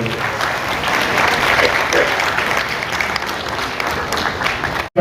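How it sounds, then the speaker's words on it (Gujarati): A crowd at a charity show claps loudly and steadily for a donor, dense applause filling the room before stopping abruptly at the end. "એમના માટે જોરદાર તાળીનો ગણગડાટ કરો"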